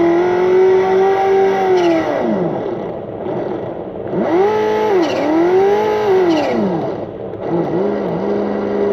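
An ESS ONE+ engine sound system is run at full throttle, giving a loud, continuous synthetic engine roar whose pitch climbs, drops sharply at each simulated gear change and climbs again several times, with no talking.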